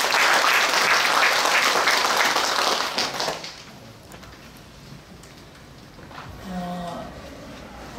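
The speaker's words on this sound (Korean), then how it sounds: "애쓰신 분들과 도움을 주신 기관에게 큰 박수를 부탁드립니다." An audience at an outdoor summer concert with saxophone performances applauds in a loud, dense burst of clapping that thins out and fades after about three seconds, leaving quiet background.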